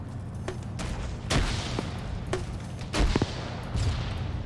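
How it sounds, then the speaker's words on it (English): Gunfire and explosions in a military video game, with an anti-tank weapon firing among scattered shots at mid distance, including two heavier booming impacts and sharp cracks over a steady ambient rumble. "I heard an explosion off to the right, though."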